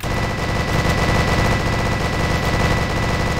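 Minigun in the Roblox game JTOH (Halloween event) firing a steady, loud, sustained rattling burst that runs unbroken through the whole stretch, with no talking over it.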